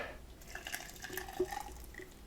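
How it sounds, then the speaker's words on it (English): Pumpkin soup liquid is poured from a lifted pot into a blender, a faint, irregular trickling and splashing at low level with no voices. "you can just lift the whole pot up and pour the rest of the liquid"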